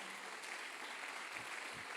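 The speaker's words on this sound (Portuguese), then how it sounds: "Vamos dar uma salva de palmas para esses irmãos" A church congregation applauds during a Sunday celebration service, a steady, dense wash of clapping spread evenly across the room with no single voice standing out.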